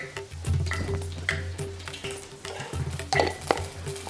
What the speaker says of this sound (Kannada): ಒಂದು ಸ್ಪೂನು ಸಾಸಿವೆ ಹಾಕ್ಕೊತಾ ಇದ್ದೀನಿ